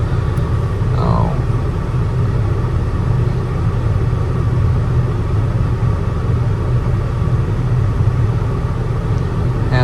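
A 2014 Chevy Impala engine runs at a steady idle, a constant low rumble that stays close and even throughout, with a brief faint clink early on.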